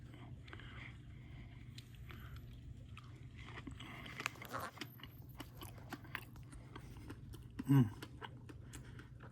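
Soft wet chewing and crunching of a fresh fig close to the mic, irregular bites over a low background hum, with one louder thump near the end.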